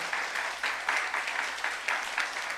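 A church youth-service congregation claps in pulsing, roughly rhythmic bursts for under three seconds, steady and fairly close with no voices over it.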